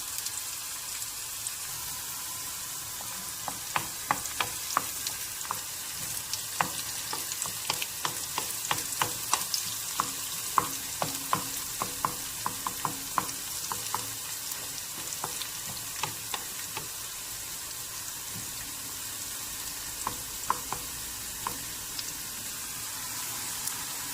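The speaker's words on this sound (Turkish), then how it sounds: "Şu an biberlerimiz yağımızla pişiyor gördüğünüz gibi." Peppers fry in oil in a pan with a continuous, even hiss. Frequent small pops and crackles run through it, close by and unbroken for the whole stretch, with no voices.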